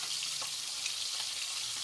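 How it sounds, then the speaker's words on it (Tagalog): Freshly caught small fish frying in hot oil, a steady dense sizzle with faint crackles, constant and moderately close, with no talk. "prito na natin ang ating huli."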